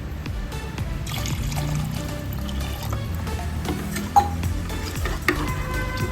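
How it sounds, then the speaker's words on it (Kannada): Water pours and trickles steadily into rice in a pot, with soft splashing and a couple of light clinks partway through. "2 ಗ್ಲಾಸ್ ನೀರು ಹಾಕೊತಾ ಇದ್ದೀನಿ."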